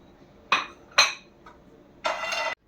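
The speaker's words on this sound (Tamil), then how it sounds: "இப்போ நம்ம பாதாம் பருப்பு எடுத்து வறுத்துருவோம்." Almonds roasting in a pan over a low flame: a few sharp, close clinks and rattles spaced apart, then a short burst of dry scraping and rustling, in otherwise quiet surroundings.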